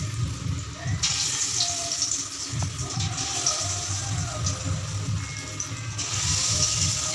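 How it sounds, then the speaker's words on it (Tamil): Soya chunks deep-frying in hot oil, dropped in one piece at a time, give a steady bubbling hiss that runs throughout, loud and close, with a low rumble underneath. "எண்ணெயும் காய்ஞ்சிருச்சு, எண்ணெயில் போட்டு எடுத்துக்கிடலாம்."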